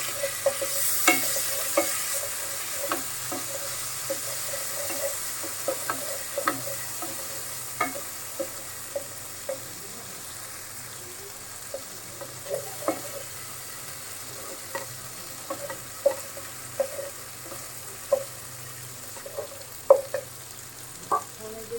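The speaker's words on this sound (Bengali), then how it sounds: "আদা রসুন দিয়েছি এটা দিয়ে দিই এটা বাটারের সাথে একবার ভেজে নেবো" Ginger and garlic fry in butter and leftover meat oil for a malai chicken dish, giving a soft continuous sizzle with frequent small spatters and occasional stirring scrapes over a long stretch, no talking.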